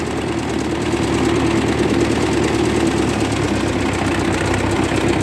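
A 1958 Oliver 550 diesel tractor running while being driven, its engine a loud, steady chugging rumble with rapid knocking pulses throughout, no talk over it.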